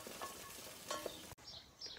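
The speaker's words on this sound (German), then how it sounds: "In dem Öl das Brot anbraten." Bread fries in hot oil in a pan that previously held chorizo, a soft continuous sizzle and crackle with a few brief stirring scrapes, close and fairly quiet.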